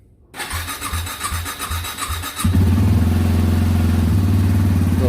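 A Yamaha WR250R motorcycle engine cranks over with a rhythmic starter chug, then catches and settles into a loud, steady idle, close by in cold outdoor air with no talk.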